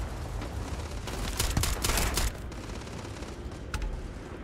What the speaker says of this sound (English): Whoa, grenades.